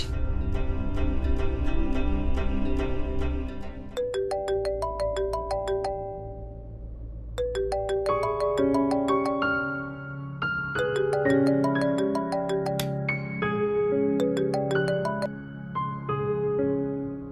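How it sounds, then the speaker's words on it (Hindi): A phone ringtone plays while a call to the doctor goes through: a bright electronic melody in repeated short phrases, loud and close, with no talking over it. "तुम बिल्कुल ठीक कह रही हो शर्लिन, मैं अभी डॉक्टर को फोन करके अपॉइंटमेंट लेती हूँ।"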